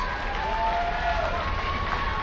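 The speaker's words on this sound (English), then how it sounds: "The crowd now rallying behind Michael Facade with his flashy moves, his unbelievable athleticism." Wrestling crowd at an IWC Night of Superstars show cheering and roaring steadily, a dense wash of voices, whistles and shouts swelling throughout the arena.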